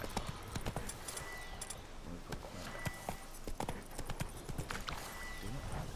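Roach the horse trotting in The Witcher 3, a steady rhythmic clip-clop of hooves close by, continuing throughout with light background game sounds.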